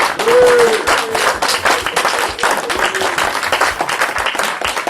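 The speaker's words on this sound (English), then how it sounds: "Get your hands together, clap, make some noise." A crowd at a live speakers' event claps steadily and enthusiastically, dense applause with a brief whistle near the start, no talking.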